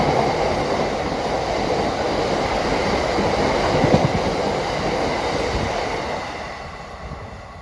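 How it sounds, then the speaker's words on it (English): A Thameslink train pulls into Balcombe station with a steady rumble and clattering wheels, loud and close, then slowly fades as it slows, with no talking. "Right, got train coming in. It's going to be the 11:25. Thameslink service to Bedford from Brighton."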